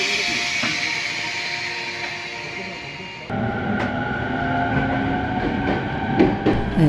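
A ten-car passenger commuter train on a long-distance local run in the Kanto region rolls along the rails with a steady rumble and hiss; partway through it grows louder, with rhythmic clacking over the joints.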